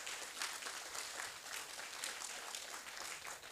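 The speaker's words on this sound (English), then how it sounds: "a round of applause for yourselves." An audience at a school prototype judging event claps in a steady, moderately loud wash of applause that stays even from start to finish, with no voices standing out.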